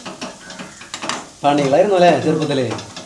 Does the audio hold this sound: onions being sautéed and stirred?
yes